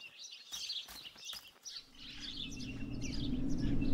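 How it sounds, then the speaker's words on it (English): Bird chirping in the game Martha is Dead, a run of bright quick tweets in the first seconds, then fading under a rising low rumbling ambience, no talk. "There's that damn bird that killed the little guy."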